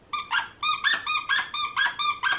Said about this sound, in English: my sister bought her this dog toy. It's Squeaky.